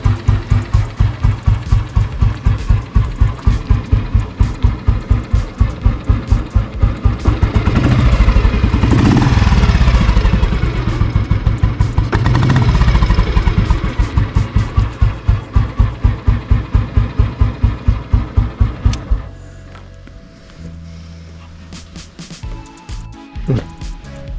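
A 1972 Royal Enfield Bullet 350 runs loud and close, its single-cylinder exhaust thumping steadily from the silencer, swelling into a heavier rev in the middle, then dropping back to the even idle beat before cutting off near the end.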